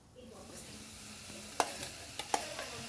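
An amla (Indian gooseberry) mixture sizzles faintly in a pan while a spoon stirs it, with a soft frying hiss and a few sharp scraping clicks near the end.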